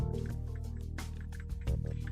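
Irish moss, honey and coconut oil are stirred together for a facial scrub, giving wet squishing and sticky dripping sounds with a few soft clicks, close and continuous, with no one talking.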